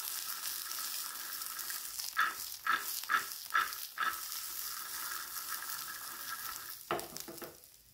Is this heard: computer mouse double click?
no